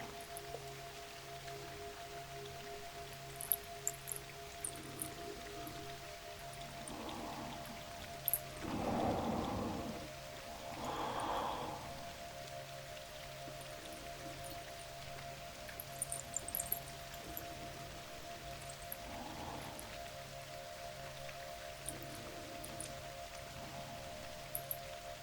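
A rainstorm with steady, soft rain hiss and low, distant rolls of thunder that swell and fade, a faint hum running beneath.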